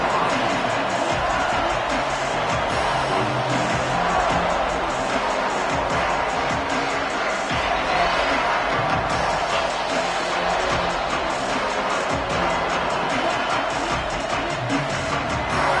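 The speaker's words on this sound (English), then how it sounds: "This crowd ready to make its presence known." Dense, steady roar of a football stadium crowd cheering at a college game between the Oregon Ducks and Ohio State Buckeyes. The noise holds at an even, loud level throughout, with no single voice standing out.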